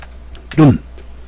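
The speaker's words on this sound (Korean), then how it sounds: "한자를 치고요." A single brief clack of a computer keyboard key, loud and close, tapped while entering Hanja characters on a PC to make a business card with Formtec.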